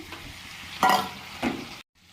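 Potatoes frying in a pan with chopped spring onion leaves while cooking a snail curry, a soft steady sizzle with two louder stirring scrapes before an abrupt stop.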